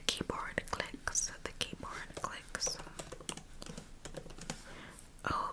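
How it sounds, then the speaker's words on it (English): Quick clicking taps on a computer keyboard held close to a mic, in short irregular bursts mixed with soft whispered talk. "get my computer close to the mic and you can hear the keyboard clicks"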